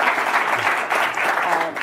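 Dense audience applause for Jack Ma at a World Economic Forum session, a steady wash of many hands clapping at full strength throughout the short stretch.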